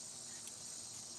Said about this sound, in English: if it's the cicadas or whatever I'm hearing outside of the locust, there's nothing I can do about that